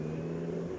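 A car passes near a GSX-R 1000 sport bike on a ride around the Bataan loop, its steady engine drone blending with wind and motor hum for a brief moment.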